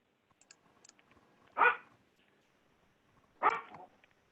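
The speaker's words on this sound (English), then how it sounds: "That's my dog barking in the back." A dog barks twice in the background of a city council meeting held remotely, two short separate barks about two seconds apart with faint clicks between them.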